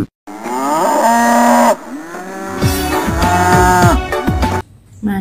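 A cow moos loudly in long, drawn-out calls, two or three bellows in a row, close and clear with no talking.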